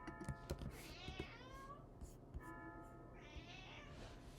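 Several plaintive cat meows, fairly close and loud, come in a loose sequence with short gaps, mixed with small clicks and taps like typing in a quiet room.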